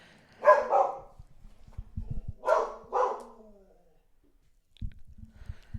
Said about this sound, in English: My dog, Dolly Parton